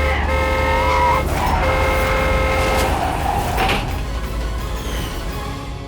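A car driven fast: a loud, steady engine and road roar with tonal whine and a faint squeal partway through, easing slightly toward the end, with no talk.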